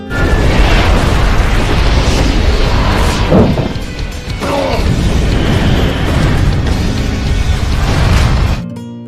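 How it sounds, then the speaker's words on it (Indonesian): Loud, chaotic blasts and crashing booms with roaring debris noise, continuous and close, ending abruptly. "Tepat pada saat mereka berhasil keluar, ledakan besar pun terjadi."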